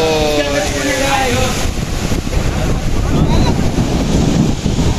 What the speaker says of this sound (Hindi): आप देख सकते हैं बारिश ने पूरा माहौल ही बिगाड़ दिया, स्टेज उड़ा के ले गया